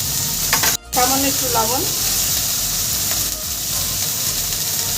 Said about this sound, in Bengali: ঠিক একইভাবে বটবটিও ভেজে নেব